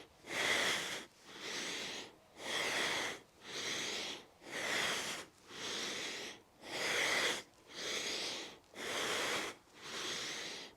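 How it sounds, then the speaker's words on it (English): Ten steady, forceful breaths during a full-body primal mobility exercise, each a loud airy rush about a second long, separated by short quiet gaps and very regular, close to the microphone, with no speech. "You can hear that breath, exhaling down"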